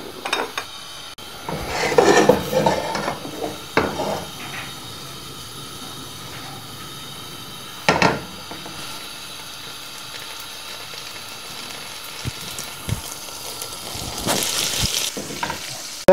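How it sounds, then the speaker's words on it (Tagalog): Butter melts and sizzles in a heated pan, a soft continuous hiss broken by a few scraping stirs and louder bursts of crackle. "Tunawin lang natin to."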